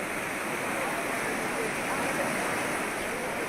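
Floodwater of the Panzara river rushes in a steady, dense roar that never lets up, loud and close with no pauses.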